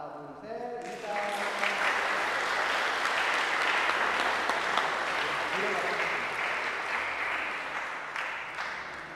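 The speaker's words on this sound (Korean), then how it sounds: "우리 두 친구가 인사를 할 때 우리 크게 박수해 주시면 감사하겠습니다." Church congregation at a Sunday service breaks into sustained applause for two children taking a bow, broad steady clapping that swells after a short pause and holds for several seconds.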